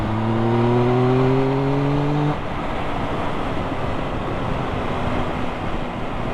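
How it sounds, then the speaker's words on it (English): A Triumph Tiger Sport 1050 motorcycle engine revs up with a rising whine, then settles into a loud, steady rumbling drone that holds for several seconds. "let's see if you can hear that engine"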